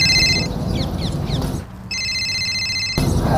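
A telephone rings in a room with repeated electronic trilling bursts that pause briefly and resume, loud and close, with no talk over it.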